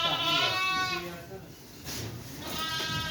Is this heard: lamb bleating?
yes